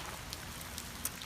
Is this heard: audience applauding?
no